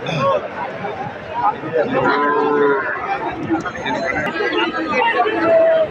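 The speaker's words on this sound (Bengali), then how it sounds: "এখানে রয়েছে বেশ কিছু বাছুর" Calves moo at a busy cattle market in Thakurgaon, Bangladesh, low calls rising over constant crowd chatter and nearby voices.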